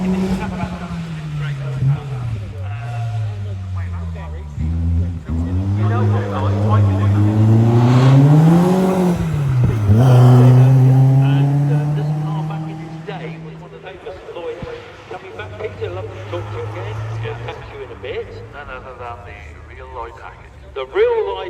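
A Caterham R500 race car accelerates up a hillclimb at Prescott, its engine rising through the revs and sweeping past before fading into the distance, while a commentator talks throughout.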